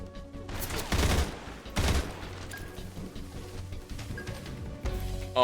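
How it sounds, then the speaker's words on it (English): M16 fire in the game Metal Gear Solid Delta comes as several sharp, loud bursts of rifle shots with short gaps between them, over softer game ambience. "I will shoot you with an M16."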